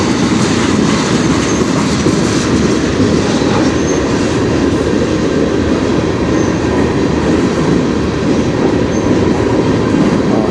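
A train rolls past nearby on the Strathroy Subdivision with a loud, steady rumble and continuous wheel clatter, its rhythmic clickety-clack and faint squeals holding constant throughout with no voices over it.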